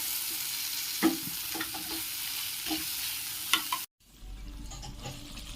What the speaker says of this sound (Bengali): চিকেনটার থেকে অনেকটা জল বেরিয়েছে। এটি এইভাবে ভালো করে কষিয়ে নিতে হবে